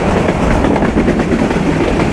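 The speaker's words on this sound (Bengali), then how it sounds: "ট্রেন কিন্তু ভালোই টানছে বলা যায়।" Burimari Express passenger train running on the tracks, a loud continuous rumble with rhythmic wheel clatter heard from inside the moving train.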